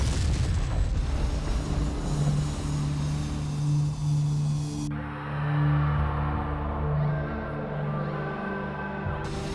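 An air-to-air missile strikes a Boeing 747 airliner with a deep booming explosion followed by sustained rumbling roar and shifting low tones, dramatized and loud throughout.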